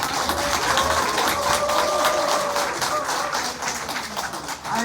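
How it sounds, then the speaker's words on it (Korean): An audience at a Korean author's book talk claps for a teacher, a moderate continuous patter of hands lasting several seconds, with a faint voice briefly audible in the background. "박수 한번 쳐주세요"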